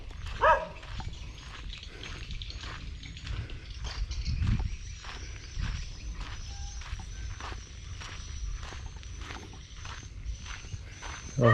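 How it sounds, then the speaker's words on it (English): Several dogs bark off in the distance near bird's-nest houses in Cho Gao, Tien Giang, Vietnam, with footsteps crunching along steadily nearby. "Uh-oh, I hear more than one dog."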